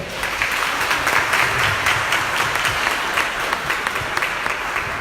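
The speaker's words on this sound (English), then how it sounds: "please give a round of applause for Ms. Carla Williamson." Sustained applause from an audience at a mosque job fair, a dense steady patter of many hands clapping at once, fairly loud, with no talking over it.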